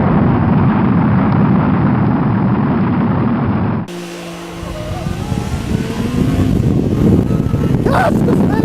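Yamaha YXZ1000R SS side-by-side revving hard then launching, a loud sustained engine roar that cuts abruptly, followed by a rising acceleration whine and rushing noise.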